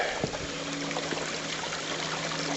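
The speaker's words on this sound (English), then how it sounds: "there's another waterfall, just there. Water goes through there and goes down" A waterfall and creek run down a mountainside with tropical vegetation, giving a steady, broad rushing wash of flowing water with faint trickles and splashes, close and continuous throughout.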